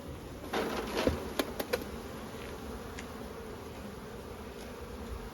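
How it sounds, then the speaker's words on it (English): A dense, steady hum of honey bees buzzing around a hive, close up, with a few faint clicks and knocks of handling as bees are shaken off frames of an overwintered nucleus colony. "Shake off these bees."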